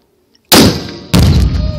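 A Tannerite target detonates when shot: after a brief silence, a sudden loud blast booms and rumbles, then a second sharp report follows about half a second later, with the roar trailing off.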